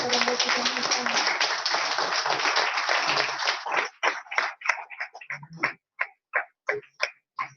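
Audience applause at a 50th-anniversary celebration, a dense burst of clapping for about four seconds that thins into scattered, separate claps near the microphone.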